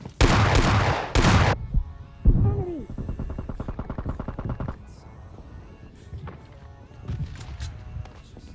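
Shotgun fire in a video game, with a couple of loud, dense blasts at the start, then a whooshing pass and a rapid mechanical rattling burst, followed by quieter scattered game sounds and no talk.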